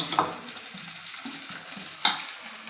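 Chutney being tempered in a pan, with a soft continuous frying sizzle and light stirring scrapes, and two sharper clinks of a utensil against the pan.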